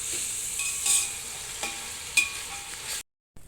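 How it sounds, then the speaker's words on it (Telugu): Peas and rice cooking together in a pot for biryani give a steady, soft sizzling hiss with a few light scraping touches, then a brief drop to silence near the end. "మొత్తం మగ్గుతుందండి ఇదిగోండి బఠానీ వేసేసుకున్నానండి"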